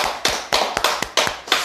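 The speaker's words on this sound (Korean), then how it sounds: "다시 한번 하나님께 감사의 박수 올려드리겠습니다" Church congregation clapping during a Sunday worship service, a few sharp distinct claps at first giving way to brief irregular bursts of applause, fairly close and with no one speaking.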